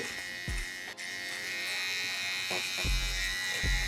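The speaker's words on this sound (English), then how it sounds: "my last step, according to the chart, Shaver." An electric shaver buzzes continuously while cutting hair during a fade haircut, close and steady, with soft thumps and scraping as it passes over the head.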